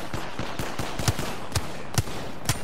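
Gunfire in Apex Legends: a string of sharp, evenly spaced shots, about eight cracks with a few louder, punchier ones toward the end, alone without talk.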